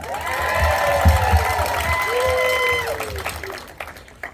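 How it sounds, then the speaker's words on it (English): A crowd breaks into sustained applause mixed with whoops and cheering voices, holding steady before thinning out and fading toward the end. "let's give it up for Mayor Rivera."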